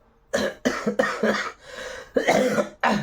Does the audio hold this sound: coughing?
yes